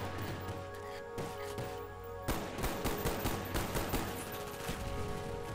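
Rapid gunfire from a zombies match on the Shangri-La map in Call of Duty, steady bursts of shots running continuously at moderate loudness with no talk over them.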